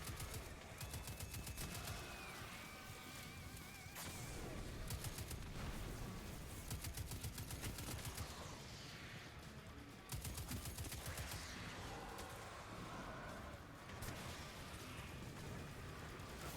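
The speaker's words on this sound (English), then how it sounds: "That's a lot of gunfire." Dense gunfire in the shooter game Destiny 2, rapid bursts of shots and automatic fire repeating in clusters across the whole stretch, loud and continuous with game effects layered in, no talking.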